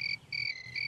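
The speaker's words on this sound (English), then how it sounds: "You can hear the crickets." Crickets chirp in short repeated bursts, a thin high trill pulsing on and off against a quiet background.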